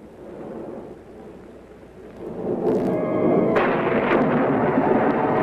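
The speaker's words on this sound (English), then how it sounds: "Sounds as if there's a storm brewing." A thunderstorm in a 1953 film noir, with a deep rolling rumble of thunder that swells louder partway through and keeps booming over a wash of rain, no voices.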